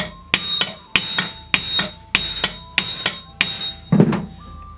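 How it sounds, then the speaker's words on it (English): A hammer strikes the dented metal edge of a weapon to push it back into shape, about eight sharp, close metallic blows in a steady rhythm, with no talking. "I'm gonna try to hit that and push the metal back."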